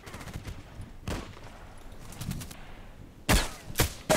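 Sniper rifle gunfire in a first-person shooter video game crackles as a few scattered, fairly faint shots early on, then louder sharp reports cluster near the end.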